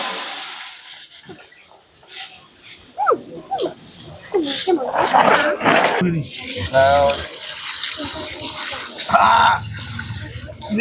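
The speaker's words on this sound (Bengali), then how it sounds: "চালটা সুন্দর করে ধুয়ে নেবো।" Rice is washed by hand in water in a village cooking setting, with splashing and swishing close by, mixed with voices talking over it.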